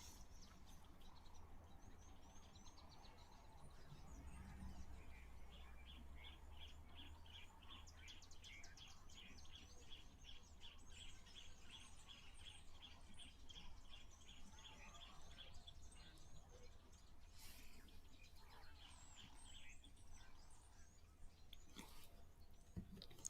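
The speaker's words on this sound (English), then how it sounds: "So we have some interesting birds calling in the background" Wild birds call at a waterhole, a faint, distant series of rapid repeated chirps rising and falling over steady outdoor background hiss, with no talking.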